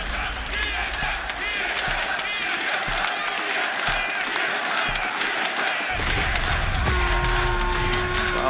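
A large esports arena crowd at a Rainbow Six Siege Six Invitational 2020 playoff match cheers and roars continuously with scattered shouts and clapping, loud and reverberant, with a steady tone entering near the end.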